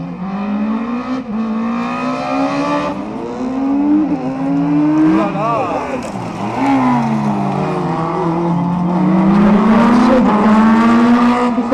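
A small-engined race car at the Carcassonne slalom revs hard and continuously, its engine note climbing and dropping through gear changes and corners, with a brief tyre squeal mixed in, loud and close throughout.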